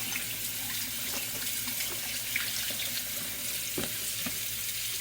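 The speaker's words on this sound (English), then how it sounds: "Let me wash my hands." Hands being washed under a running kitchen tap while fried chicken is being prepared: a steady, close rush of water with small splashes and shifts as the hands move through the stream, with no talking.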